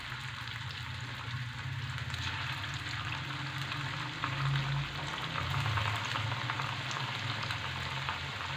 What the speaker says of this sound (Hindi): अब हम इसको गोल्डन कलर आने तक फ्राई करेंगे।